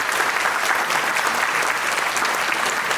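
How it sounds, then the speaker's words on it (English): A crowd gives loud, sustained applause for the performing group Rhythmscape, dense clapping filling the room without a break. "Can we hear a loud round of applause for Rhythmscape?"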